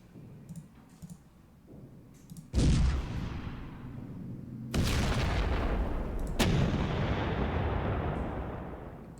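Artillery in the Panzer Campaigns Kiev 43 wargame: a few soft clicks, then three heavy booming salvos in quick succession, each roaring and slowly decaying, loud and close.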